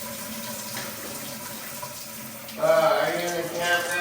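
Water bursts on from a shower tap at a van camp in a ghost town, arriving suddenly after a quiet lull and then running as a steady, close splashing rush.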